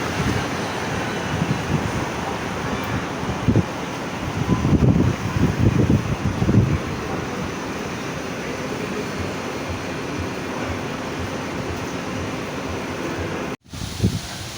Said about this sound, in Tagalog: malakas ang hangin dito sa Mall of Asia